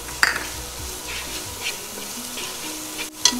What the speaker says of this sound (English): Saute this for a couple of minutes.